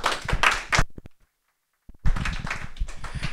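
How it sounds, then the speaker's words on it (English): Bursts of close clapping from a group at a PHP meetup talk, stopping into a brief silence, then resuming strongly and continuing. "So please give him an applause."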